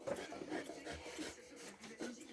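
Soft rhythmic snipping and rasping of thinning shears working through a Newfoundland dog's chest fur, close and quiet, repeating in short strokes.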